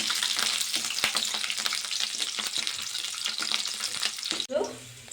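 Garlic cloves fry in a spoonful of oil in a pan, a loud, close, continuous sizzle with occasional stirring scrapes that briefly drop off near the end.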